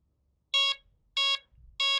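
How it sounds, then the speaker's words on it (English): Three identical electronic beeps from an FMS Ranger 1220mm RC plane confirming a 3-cell battery connection, in an even rhythm, sharp and close, with a faint low thump between them and silence otherwise. "the first 3 beeps tells me, hey, that's a 3-cell battery and it's ready"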